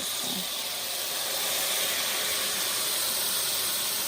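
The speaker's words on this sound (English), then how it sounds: "Listen to that sizzle." Butter and cornbread batter sizzle in a hot cast iron skillet at a campfire-style cookout, giving a steady, broad hissing crackle that holds loud and constant from start to finish without talk.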